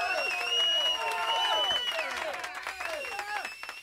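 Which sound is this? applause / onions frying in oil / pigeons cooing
applause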